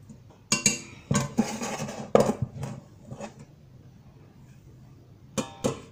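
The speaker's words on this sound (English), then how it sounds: "So I'm just throwing, as you can see, I'm just throwing the peas." Peas are tossed into a cooking pot in a home kitchen, giving several sharp clattering bursts and clinks spaced irregularly, fairly close and loud against a quiet background.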